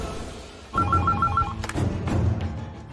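A telephone rings with a repeating electronic trill, clear and fairly close, over faint background noise and a few soft knocks, as a call to the police goes through.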